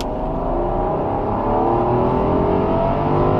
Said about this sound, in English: I'm in Palm Springs right now in a Rolls Royce. Then we're going to accelerate.